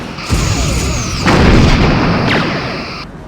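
Torpedo fire in the starship combat game Star Trek: Bridge Commander, loud booming launches in quick succession, each with a sweeping whoosh and a rumbling tail, no voices present.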